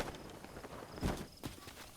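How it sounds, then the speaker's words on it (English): Horse galloping across a canyon in Zelda: Breath of the Wild, a soft rhythmic run of hoofbeats with a couple of heavier thuds, fairly quiet and steady with no talk. "Normally I cut all this galloping out"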